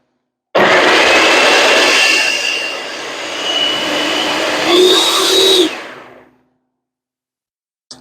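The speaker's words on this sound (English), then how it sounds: "Pour it in the food processor." A food processor chopping pineapple whirs loudly for about five seconds, its pitch shifting as it chops, then spins down and stops.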